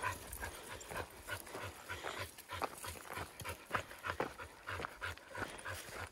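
A dog pants rapidly and rhythmically close by, quick breathy huffs continuing throughout, with occasional faint whimpers.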